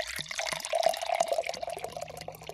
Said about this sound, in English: I'll go get my own glass of water.